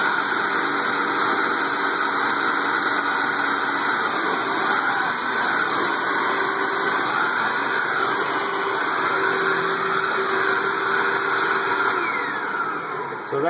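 Hoover Wind Tunnel vacuum cleaner running steadily throughout, a loud continuous motor whine and airflow roar with high-pitched tonal hum, close by.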